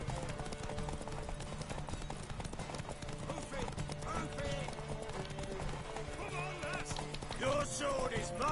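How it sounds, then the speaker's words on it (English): Horse hooves clip-clop at a gallop in the open-world fantasy game The Witcher 3, a steady rapid rhythm with an occasional whinny, mixed with game music and someone talking over it. "the horse stamina is really low."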